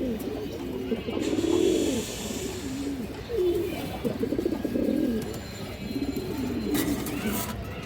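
A male pigeon from a silver pair coos close by in repeated low, throaty rolling phrases. Light background noise runs under the calls.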